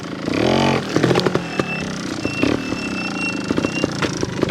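A Honda Montesa 315R trials motorcycle revs hard in second gear, a loud close engine roar that settles into a choppy idle with mechanical clatter.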